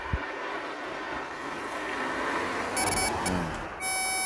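A steady high-pitched continuity tester buzzer tone switches on near the end, rising above a dull background hum and broadband noise.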